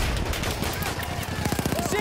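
Machine gun fire from an MG15 n.A. in Battlefield 1, Argonne Forest map, rapid rattling bursts in the second half under a dense battlefield din, with speech mixed in.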